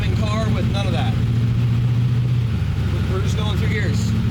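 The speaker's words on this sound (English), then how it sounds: "We're just going through gears." Small block Chevy drag car with an 8HP70 transmission running through its gears, a steady loud engine drone with pitch shifts, under continuous nearby talking.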